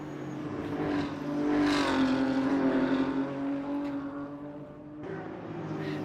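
Race cars on a racing circuit in an NLS 3-hour endurance series round, engines droning and rising as they pass close by, one long swelling pass then another car arriving near the end, with no talk.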